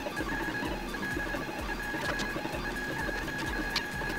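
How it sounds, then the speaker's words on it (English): A 3D printer running a print with green filament, a continuous mechanical whir with a steady high whine and a regular low thump from the moving parts, close and alone. "Now we will let the printer go until the print is finished."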